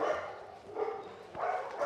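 Dogs bark and yelp close by as a pitbull is walked past them, a few separate bursts of barking at moderate level with short pauses between.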